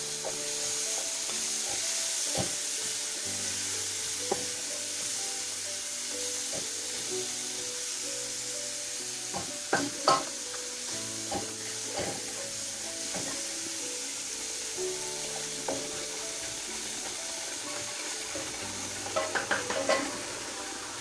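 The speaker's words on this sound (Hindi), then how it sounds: "इसमें मगज़ डाल देंगे बस इसको भून लेंगे" Goat brain sizzles in a pan for a masala fry, a continuous hiss of frying with scattered scraping and tapping from stirring, clustering into quick knocks near the end.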